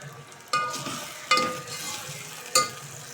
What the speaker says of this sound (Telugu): ఉల్లిగడ్డ, అల్లం ఎల్లిగడ్డ, కొత్తిమీర, పుదీనా, గరం మసాలా వేసి మంచిగా ఫ్రై చేసేసుకున్నా